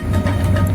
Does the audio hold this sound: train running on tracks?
yes